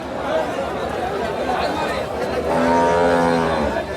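Native cow at a busy rural cattle market in Dewanganj, Jamalpur, letting out a close, drawn-out moo over the murmur of crowd chatter and nearby voices.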